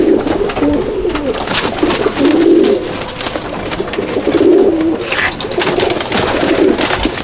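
Pigeons in a loft cooing repeatedly, soft low throaty calls rising and falling in waves close by, with faint rustling and background noise between coos.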